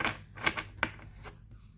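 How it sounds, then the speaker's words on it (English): A deck of cards is shuffled by hand during a quiet card reading. A few soft, rapid riffling clicks sound close by, with brief pauses between bursts. "I'm just going to be shuffling the cards for just a few more times"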